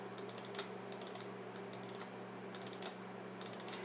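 Computer keyboard keys and mouse buttons clicking at a desk while working in Maya 11, in several quick clustered bursts over a steady low hum.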